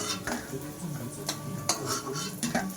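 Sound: palm fruit pitha frying in a pan

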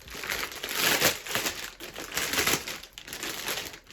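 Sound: crinkling plastic package

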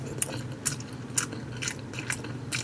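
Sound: biting and chewing boneless smoked pork trotters

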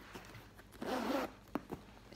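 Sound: zipper on a Dooney & Bourke tote bag

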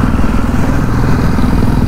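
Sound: superbike passing by

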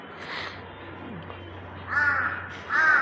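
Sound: crows cawing while being fed

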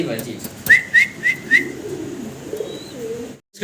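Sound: pigeons cooing

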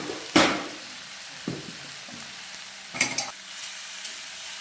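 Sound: stirring amaranth leaf stir-fry in pan

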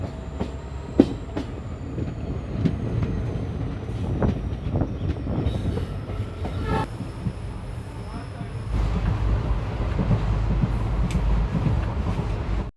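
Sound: passenger train with diesel locomotive running

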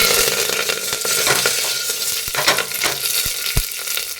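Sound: curry leaves sizzling in hot oil with cumin in a cooker

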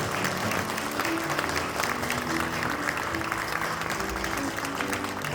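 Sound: congregation applauding

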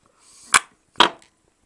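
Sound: dented speaker dust cap dome popping out under suction

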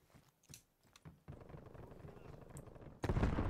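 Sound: gunfire in the video game Call of Duty Cold War

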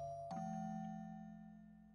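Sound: shrine bells ringing in video game Shiro no Noroi

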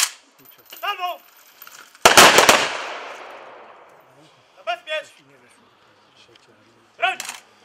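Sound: ceremonial rifle salvo fired by honor guard

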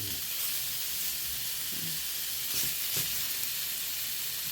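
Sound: potatoes and pork belly rolls frying in oil

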